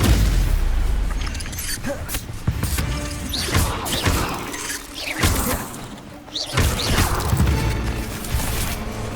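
Incendio fire spells blast repeatedly in Hogwarts Legacy, a series of loud booming bursts with crackling crashes and whooshes in irregular rhythm, close and without voices.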